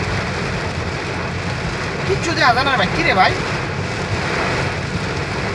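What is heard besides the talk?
heavy rain falling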